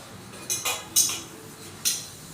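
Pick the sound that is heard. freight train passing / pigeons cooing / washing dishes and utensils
washing dishes and utensils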